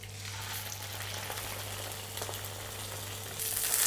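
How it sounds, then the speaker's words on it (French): Norwegian cod fillet searing skin-side down in hot olive oil in a pan, a steady quiet sizzle throughout with a low hum beneath, rising slightly louder near the end. "Dans une poêle chaude, mettre un filet d'huile d'olive et colorer le filet de cabillaud côté peau."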